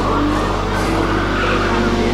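In the Resident Evil 4 video game, a car skids with a steady tire-squealing roar over a loud engine drone, a continuous dense wash of sound without a distinct separate impact.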